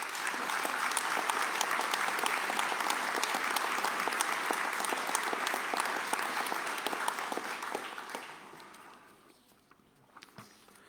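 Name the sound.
audience applauding the associations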